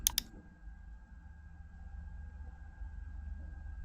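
A computer mouse clicked twice in quick succession, sharp and close, followed by a faint, quiet room hum.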